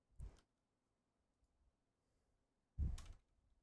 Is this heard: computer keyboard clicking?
yes